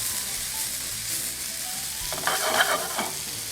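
Mushrooms, potatoes and mixed vegetables crackle in a hot pan for a frittata, a constant sizzle that swells into a louder burst of frying as they are tossed.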